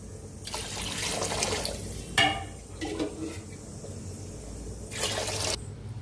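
Water is poured in short bursts into a cooking pot for ghee rice, splashing and gurgling twice with a pause between, followed by a clink.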